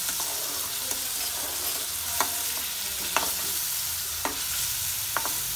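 Mushrooms sautéing with tomato puree in a pan, a steady soft sizzle broken by several sharp utensil taps and scrapes against the pan at irregular intervals, with no talking.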